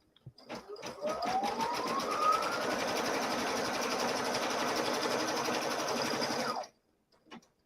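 A sewing machine stitches a trim placement line while piecing a quilt block, one continuous fast whirring run of about six seconds, close and steady, with a rising whine as it speeds up and no talking.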